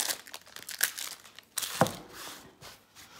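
Plastic packaging of individual Pro Stickies sticky notes torn open by hand, with close crinkling and a sharp rip partway through, followed by softer rustling, no talk.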